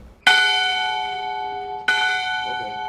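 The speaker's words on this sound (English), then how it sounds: "This bell rings in protest of the death penalty." A bell rings out twice in protest of the death penalty, each strike clear and resonant with a long ringing decay, the second stroke coming after a short pause.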